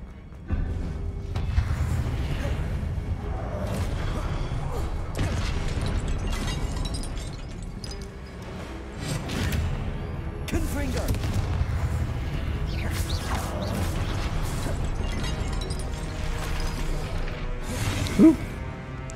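Confringo spell blasts in Hogwarts Legacy combat, a run of booming, crackling explosions and crashes over a constant rumble of battle, with one sharp burst near the end.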